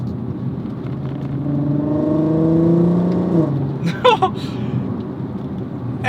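A VW Golf MK5 R32 with a Milltek exhaust revs up, its engine note climbing steadily and loud, then easing off with a few sharp pops and crackles as it settles back.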